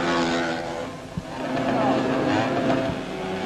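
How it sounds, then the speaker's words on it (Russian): A kart engine at the first All-Union karting competition in the USSR drones steadily through the clip, a continuous mechanical hum sitting beneath someone narrator's voice. "Но вот заглохший мотор завелся."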